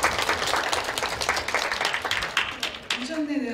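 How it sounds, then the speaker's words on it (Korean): Audience applause, a dense steady patter of many hands clapping, with a voice starting to speak near the end. "박수 한번"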